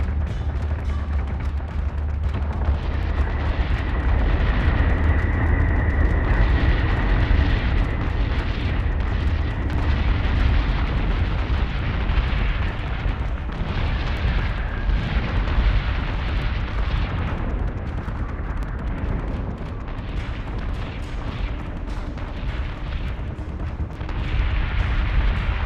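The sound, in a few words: battleship guns firing in Battlestar Galactica Deadlock video game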